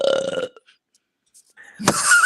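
A single loud, close burp follows a brief moment of talk and a pause, ending in a rough, drawn-out belch.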